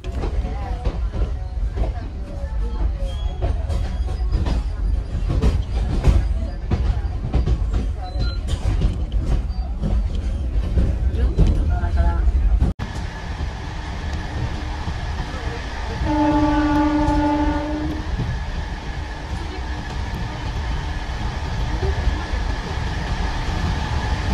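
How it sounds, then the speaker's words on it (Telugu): A MEMU express train pulls out of Gudur Junction, loud rumbling and rattling carriages, then a sustained horn blast sounds after the noise briefly drops, with the rolling clatter continuing underneath. "మన ట్రైన్ అయితే గూడూరు జంక్షన్ నుండి అయితే బయలుదేరి వెళ్తుంది"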